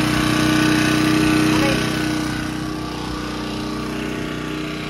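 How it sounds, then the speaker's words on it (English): A Predator 1800 watt portable generator runs at a close, loud, steady pulsing drone that eases slightly in volume partway through. "But, pretty good little generator."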